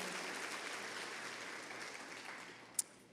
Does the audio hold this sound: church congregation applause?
yes